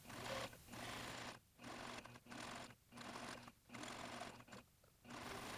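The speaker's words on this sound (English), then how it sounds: "Sew along the waistline at 1/2 inch, making sure to match all of your notches and side seams." A sewing machine stitches along the waistline of a pair of pants in short, steady bursts, whirring loudly and close, with brief pauses between runs; no voices.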